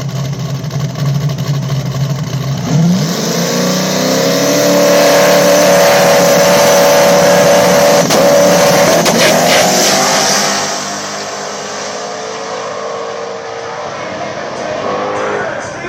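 Small-tire outlaw drag race cars, a Fairmont Zephyr and a Camaro, at a Mooresville drag strip: a lumpy idle gives way to a loud, rising engine roar that holds for several seconds, then eases back to a lower rumble.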